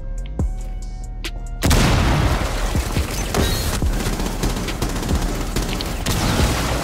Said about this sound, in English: Right side, getting shot from the right side.